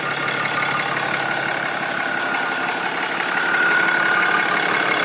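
A Cummins diesel engine idling steadily in a fourth-generation Dodge dually pickup, a continuous even rumble with a faint whine, close and unbroken with no voices.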